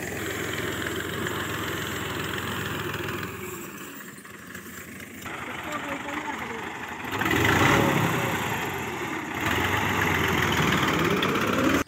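A tractor engine idles nearby with a steady low rumble and vibration, swelling briefly louder partway through, while people talk over it at a village field site.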